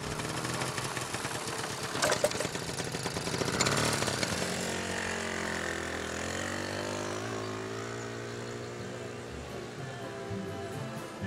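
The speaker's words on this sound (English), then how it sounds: "Yeah, I like my mopeds." A moped engine runs steadily close by, droning at first and then settling into a smoother idle-like tone, with no talking over it.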